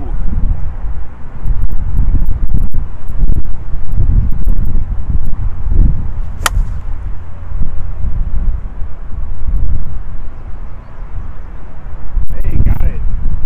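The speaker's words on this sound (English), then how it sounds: "Like a big wall of wind." Strong outdoor wind buffets the microphone in continuous heavy gusts at a baseball bat test session, with low rumbling bursts throughout and a brief sharp crack partway through.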